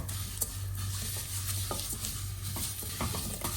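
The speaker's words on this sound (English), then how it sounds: "Keep sauteing until it's getting brown." Balaleet vermicelli sautéing in a pan with steady stirring, a continuous close sizzle broken by repeated scrapes and clinks of the spoon against the pan.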